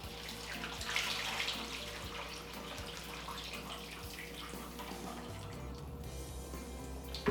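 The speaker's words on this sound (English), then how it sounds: "Just drain the excess water off here." Water drains from freshly minced sweet onions through a small strainer, a steady trickling, splashing flow that runs continuously at low volume, close by, with a few drips near the end.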